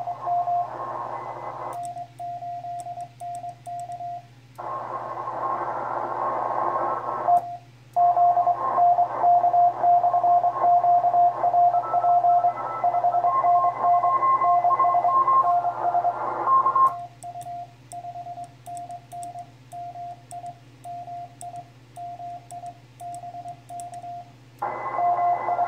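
Morse code CW signals from a ham radio receiver during the ARRL International DX CW contest: steady beeping tones in rapid keyed patterns, several overlapping stations over a constant hum and static, loud and continuous.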